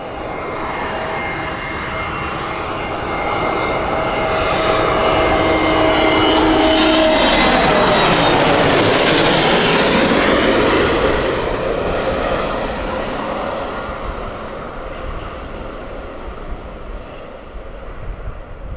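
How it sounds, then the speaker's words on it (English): An EasyJet airliner arriving at Gatwick Airport roars steadily louder as it passes close overhead, its engine tone sweeping down in pitch, then fading away as it lands. "Okay, EasyJet inbound."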